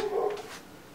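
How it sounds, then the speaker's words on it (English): A dog barks indoors in a house basement, one short close bark heard alone before the room goes quiet. "Oh, my dog is barking."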